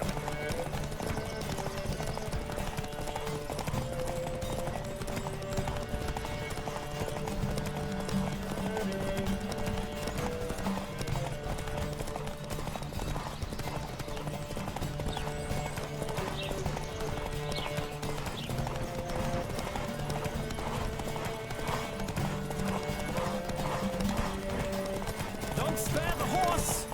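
Horse hooves galloping steadily through a race in the video game The Witcher 3, a continuous rhythmic clatter under game music, with people talking over it throughout.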